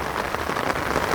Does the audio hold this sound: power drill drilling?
no